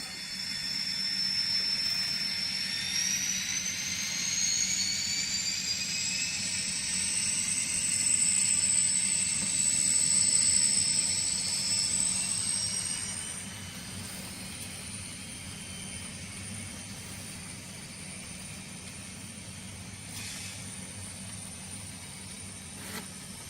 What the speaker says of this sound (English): I'm pulling 4 ScaleTrains hoppers, covered hoppers, and 4 auto racks behind one locomotive.